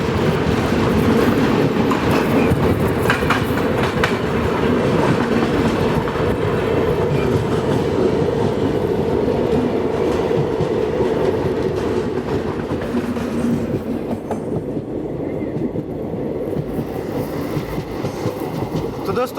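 Rajdhani Express running from Thiruvananthapuram to Hazrat Nizamuddin, passing loud and close as a steady rumble of wagons and rails that continues alone throughout.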